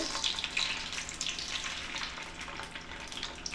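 Polenta cakes fry in oil in a pan, giving a steady, soft sizzle and crackle that stays close and fairly quiet throughout, with no voices.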